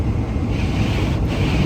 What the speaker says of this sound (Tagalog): Hindi ko alam kung kita sana kung kita yung lakas ng hangin sa labas